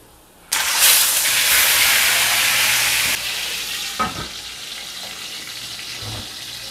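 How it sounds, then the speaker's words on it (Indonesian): A loud, sudden burst of sizzling as fish hits hot oil with ginger, a dense crackling hiss that stays strong for a few seconds, then settles into a quieter steady fry with occasional pops. "kenapa kok goreng ikan ditambahin jahe?"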